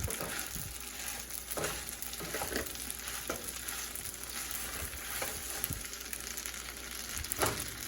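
Spinach Parmesan pasta sizzles steadily in a pan, with soft clattering knocks as it is tossed every second or so, close and moderately loud, with no voices.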